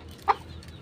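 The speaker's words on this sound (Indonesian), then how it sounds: "ini ayam yang ngorok" A chicken suffering from a snoring respiratory illness gives a single short, rasping cluck-like sound over faint background noise.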